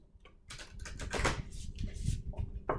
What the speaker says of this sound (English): And let's shuffle these one more time.